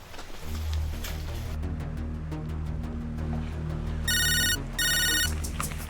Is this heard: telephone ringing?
yes